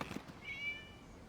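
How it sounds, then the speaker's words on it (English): A single cat meows in Genshin Impact, one short, faint, tonal mew rising and falling after a few soft sounds at the start. "It was just a cat."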